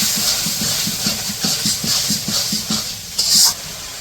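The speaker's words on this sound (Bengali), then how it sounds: "এখন মশলাটা কষিয়ে নিব" Turmeric and dried chili powder spice mix fries in a pan in a village kitchen. There is a steady close sizzle and hiss with soft rhythmic stirring scrapes, and a brief sharper hiss near the end.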